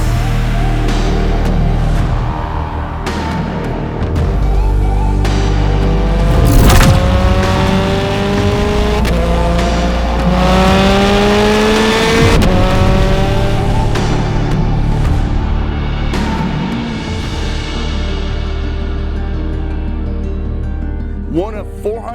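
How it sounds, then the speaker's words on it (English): A 2009 Ferrari 16M sports car, a limited model built off the Scuderia, revs and accelerates loudly and close by, with rising and falling engine tones, gear changes and brief tire noise across the run. "Which brings me to this car, the 2009 Ferrari"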